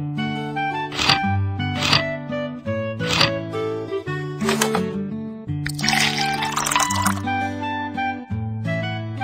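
Cartoonish bursts of water sound from a pet-care video game, where water is given to a sick rabbit, play over a bouncy looping music bed.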